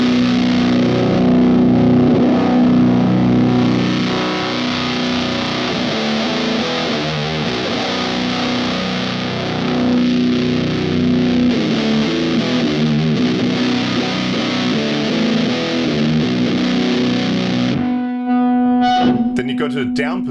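Guitar run through a fuzz distortion pedal with its filter set to the up position, giving a loud, sustained, buzzing saturated tone with a steady held note and strummed texture, ending with a few sharp choppy chords.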